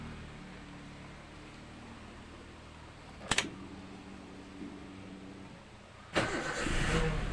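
Toyota Avanza with a long-cranking starting fault: a quiet idle hum, a brief sharp starter burst midway, then a longer crank that catches as the engine fires and settles into a louder running rumble.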